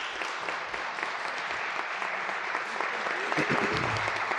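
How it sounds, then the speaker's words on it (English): An audience claps and cheers for a panel after a discussion on bail reform. The applause is dense and sustained, with whoops and voices mixed in, and grows a little louder toward the end. "First off, give our panel a round of applause."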